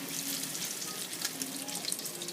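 Whiting and shrimp fry in oil with a busy, bubbling crackle, a dense hiss of tiny pops that stays close and fairly loud without pause and without talking.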